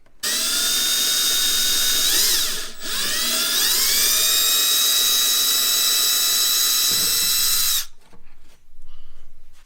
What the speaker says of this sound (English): We're going to start with a small drill bit